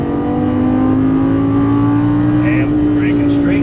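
A Lamborghini Gallardo LP550-2 pulls hard on a race track, its engine drone steady and loud and rising slightly in pitch under throttle, with faint higher squeals late on.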